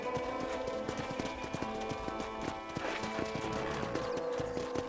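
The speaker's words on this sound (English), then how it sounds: "I picked out a fine horse for you." Horse hooves clip-clop at a steady, rhythmic pace in the video game Red Dead Redemption, close and continuous over a soft background of ambient game sound.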